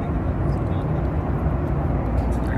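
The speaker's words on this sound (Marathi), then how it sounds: "आता आपलं प्लेन लँड होतं आहे." Steady loud cabin roar of an Akasa Air passenger airplane as it comes in to land, a constant broadband engine and airflow drone that fills the whole stretch, with faint voices mixed underneath.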